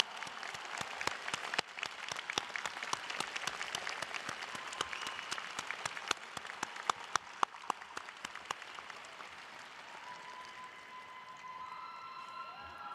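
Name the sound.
graduates applauding their families at commencement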